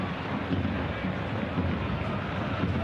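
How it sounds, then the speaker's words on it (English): Steady rumbling wind buffeting the microphone on a chilly, windy night at Camp Nou stadium, a continuous low roar with no other distinct sounds. "It's a chilly, windy night at Camp Nou."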